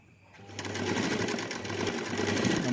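A sewing machine runs steadily while stitching a tailored blouse, its rapid mechanical whirr starting after a brief quiet moment and continuing close and even throughout.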